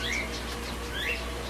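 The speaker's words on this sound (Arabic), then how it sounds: "هذا طائر الجنة أبو ذيل طويل، هذا واحد هناك،" Long-tailed paradise birds calling in a bird reserve, a few thin, high chirps repeating over steady low background hum, moderately distant and fairly faint.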